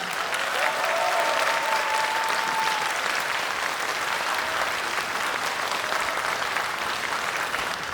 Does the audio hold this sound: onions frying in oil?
no